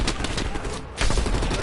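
Dense gunfire from Call of Duty Black Ops Cold War, rapid overlapping shots close up and loud, dipping briefly before a heavier burst resumes.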